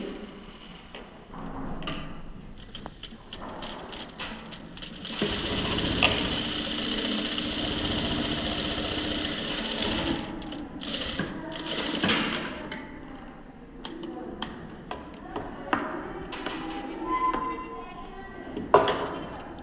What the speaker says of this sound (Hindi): आधे इंच पे हम सिलाई लगाएंगे।